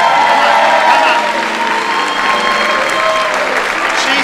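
A large audience at a summer Broadway revue on stage bursts into sustained, loud applause with some cheering, a dense steady wash of clapping that fills the whole stretch, with a few voices mixed in.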